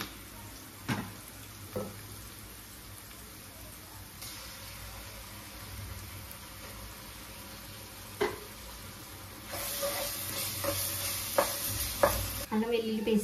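Ginger garlic paste fries with reddened onions for a brinjal crab curry, a soft sizzle with occasional utensil knocks that swells into a louder, brighter hiss as stirring picks up toward the end.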